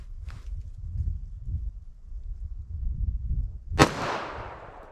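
.45 ACP pistol fired with 200 grain Hornady ammunition, a single sharp loud crack near the end that rings out briefly, after quiet low outdoor rumble and a faint earlier tap.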